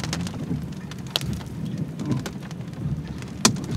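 Rain and hail drum steadily on a car roof during a supercell thunderstorm in Styria, with sharp louder stone impacts standing out among the dense patter.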